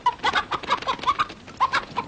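Chicken clucking in a rapid, irregular series of short, nasal calls, close and fairly clear, with no talk over it.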